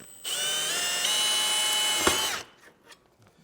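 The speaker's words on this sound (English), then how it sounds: "So now that the holes are drilled, we're going to take the back piece off again." A power drill boring holes for a minimalist Camel T7 motorcycle rack whines steadily at close range for about two seconds, its pitch shifting slightly mid-run, then stops with a brief clack and faint handling noises afterward.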